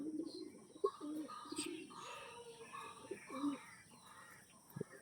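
Line pigeons kept for breeding and sale cooing softly at close range, several short low coos and rustles in a quiet indoor coop, with faint voices nearby.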